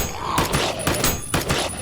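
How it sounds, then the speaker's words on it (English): Pistol shots in the VR zombie shooter Sweeper Zero: several punchy single shots in an uneven rhythm over a steady, busy game background, close and moderately loud. "Teleport around, shooting zombies with your pistol while finding ammo and health."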